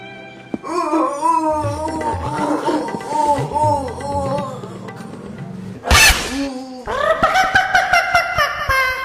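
A dog howls and whines in long wavering tones close by, broken by a sharp bark-like outburst near the end and a shorter rising howl after it.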